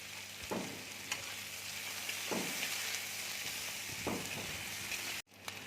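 Ginger and dried red chillies sizzle steadily in hot oil for an egg curry, a continuous close frying hiss broken by a few soft stirring scrapes and a brief dropout near the end.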